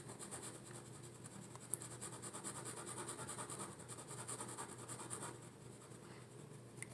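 A marker shades and scribbles across a board in quick repeated strokes, a faint, dry scratching that carries on steadily with a few sharper squeaks and no talk.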